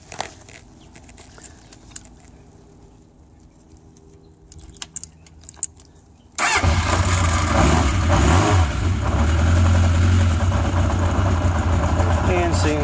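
A 1981 Honda CB750K motorcycle engine fires up after a few quiet seconds of faint clicks and handling noises, then runs steadily at low RPM with a loud, even, close idle.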